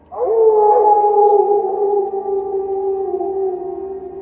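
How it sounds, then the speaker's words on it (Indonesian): A wolf lets out one long, loud, echoing howl as an audio drama sound effect, sustained and slowly sagging in pitch over several seconds, alone with no voices. "Suara serigala, panjang, menggema, dan memilukan."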